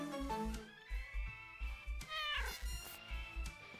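Kitelli, a kitten-like creature in the video game Cassette Beasts, gives a few quick high meows over a steady thumping game soundtrack, fairly close and clear.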